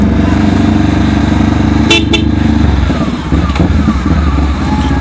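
A Honda CBR500R motorcycle's engine drones loud and steady up close while riding, with wind rush and a brief horn-like burst in the middle.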